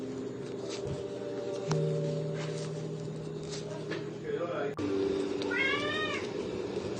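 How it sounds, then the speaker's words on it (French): A domestic cat meows indoors while someone knits slippers; after a quiet stretch with a low electrical hum, a short, clear meow stands out near the end. "Vous avez entendu mon chat miauler."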